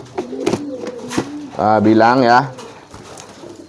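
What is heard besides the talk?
racing pigeons cooing while eating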